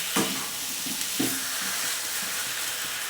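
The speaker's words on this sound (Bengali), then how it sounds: "ভালো করে ওপর নিচ করে আমি মশলাটাকে মাখিয়ে নিই।" Spiced jackfruit being stirred and turned in a frying pan, steady sizzling with repeated scraping strokes of the spoon, close and clear with no talk.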